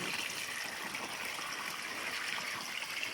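Irrigation water flows steadily in a continuous broadband rush, with no voices over it.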